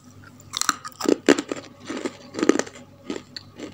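Crisp bites and crunchy chewing of thin homemade fried potato chips, several sharp crunches in an irregular rhythm, close and fairly loud, with no talking.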